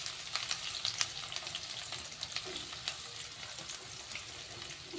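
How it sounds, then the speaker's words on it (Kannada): Sliced onions frying in oil in a pan for dill-leaf chitranna, a continuous crackling sizzle with scattered pops and faint stirring, close and fairly soft. "ಈಗ ನೋಡ್ರಿ ಈರುಳ್ಳಿ ಹಾಕೋಣ."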